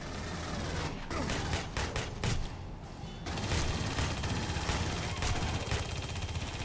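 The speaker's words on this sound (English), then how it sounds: "Shoot the fuel tanks around the APC!" Rapid gunfire echoes through a firefight in Aliens: Colonial Marines, with overlapping automatic bursts and heavy booms forming a dense, loud, continuous barrage and no voices.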